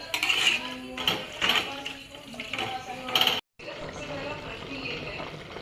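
Masala bhat cooking in a pot and being stirred, with repeated close metallic scrapes and clinks of a spoon against the pot, a short gap, then a quieter steady bubbling and scraping.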